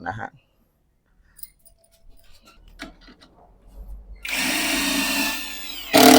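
A CANLIDI CID-400S impact driver, rated 400 Nm, drives 3.5 mm screws into hard pine wood: a few faint taps and handling clicks, then a loud sustained hammering whir for about two seconds, cut off and followed by a brief burst.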